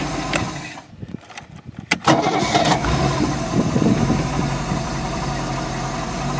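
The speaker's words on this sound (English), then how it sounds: "I needed to set the idle on the carburetor too low for it to restart" A Tohatsu 5hp four-stroke outboard engine catches after a brief quiet gap and settles into a steady, loud, close idle with a low rumble, running on alone without talk.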